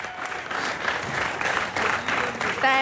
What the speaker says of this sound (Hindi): ठोको ताली सोनाक्षी के लिए।